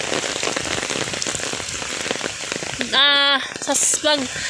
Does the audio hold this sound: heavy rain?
yes